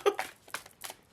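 Tarot cards riffle and slap together in a quick shuffle, three or four short papery bursts close by and fairly quiet, with no talk.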